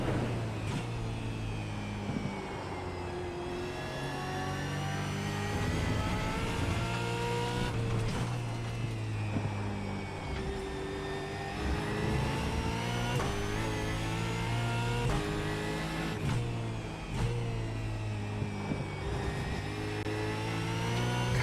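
An Australian Supercar in the iRacing sim at Brands Hatch roars continuously through the lap, the engine note climbing and dropping through gear changes and braking, loud and alone with no talk.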